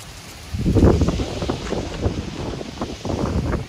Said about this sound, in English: let me mention the wind. It's a little windy.